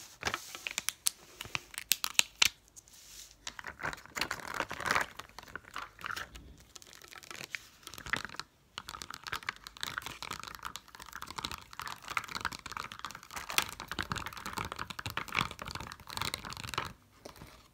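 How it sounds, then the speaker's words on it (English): Pop-up dot stickers pulled off one after another, making dense, crackly clicks and crinkling peels that run almost continuously, close and soft, with brief pauses. "See what it sounds like pulling these off. It's just kind of a bit of a click sound."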